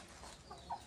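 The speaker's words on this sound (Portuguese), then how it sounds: "Rapaz, que galinha grande da porra" A large chicken clucks briefly, two short calls near the end, faint against low background noise.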